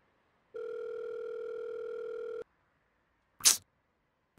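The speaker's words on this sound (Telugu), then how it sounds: "ఒకసారి కాల్ చేద్దాం" A phone call ringback tone plays as one steady, clean, close electronic tone lasting about two seconds, followed by silence and a short burst of noise.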